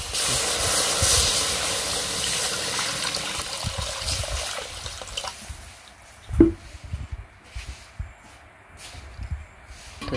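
Water poured into a pot of cooked rice in a village kitchen, a hissing, steamy pour that fades into faint trickles and drips, with one sharp splash-like knock partway through.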